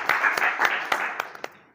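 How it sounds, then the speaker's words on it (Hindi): Scattered hand claps from an audience at a marketing-plan presentation, a few sharp claps over a diffuse patter, fairly close and moderate, thinning out by the end. "एक बार जोरदार ताली आप सभी के लिए होनी चाहिए।"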